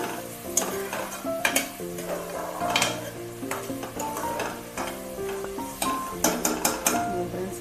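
Onions frying in a pan for a Konaseema country chicken curry, a bright sizzle punctuated by repeated sharp scrapes and clinks of a spoon stirring against the pan, over soft background music.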